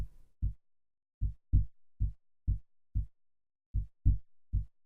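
A synth bass patch from the Omnisphere 2 library, played without delay: deep, round bass notes plucked in a steady, dry rhythm with short gaps between them, no echo trailing off, played alone.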